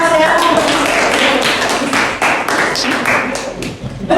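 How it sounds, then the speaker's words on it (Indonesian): A classroom group claps in a teaching session, a dense, steady patter of many hands that stays loud throughout and fades slightly at the end. "kita beri tepuk tangan, ya."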